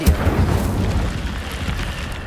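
The Incendio fire spell is cast in a video game, giving a loud booming, roaring burst up front that settles into a sustained rushing, crackling fire noise.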